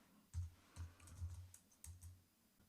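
Soft, close keystrokes on a computer keyboard come in an irregular rhythm of short clicks, quiet and alone with no voices.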